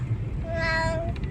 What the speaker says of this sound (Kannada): ಮಿಯಾವ್ ಅನ್ನುತ್ತಾ?